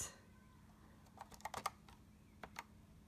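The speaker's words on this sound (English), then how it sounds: "it's hard typing, like the old typewriters" Keys tapped on an AlphaSmart portable word-processor keyboard, a short irregular burst of firm clicks clustered in the middle, then two more strokes, fairly faint in a quiet room.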